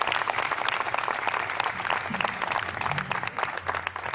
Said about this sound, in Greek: το θερμό σας χειροκρότημα για τους χορευτές μας